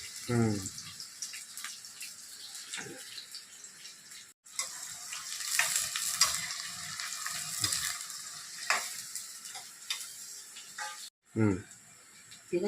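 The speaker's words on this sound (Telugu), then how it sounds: "ముందు ఫ్రై చేస్తా చికెన్ ఫ్రై" Chicken and onions frying in a pan, a steady close sizzle with stirring scrapes and a few brief clanks, no one speaking over it.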